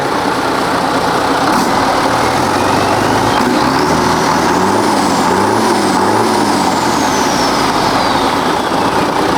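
An Isuzu 6HK1 diesel truck engine with an in-line pump, rated 280 horsepower, revs up and down in rising and falling swells over a loud steady idle, close by with no talk.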